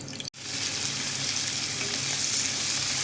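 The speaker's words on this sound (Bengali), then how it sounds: "চিকেন বনলেস চিকেনটা আমি ফ্রাই করে নিতেছি" Boneless chicken pieces fry in a pan for chilli chicken, giving a steady, loud, close sizzle that continues without a break after a brief dropout at the start.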